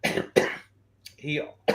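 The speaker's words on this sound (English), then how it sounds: "sorry, a little cough" A couple of sharp coughs, then a short vocal sound and another cough, close and fairly loud.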